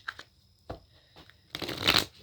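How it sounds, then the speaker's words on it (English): Tarot cards being shuffled in a few short riffling bursts, close and crisp, ending in a longer louder shuffle. "It's just a nice feeling when you shuffle."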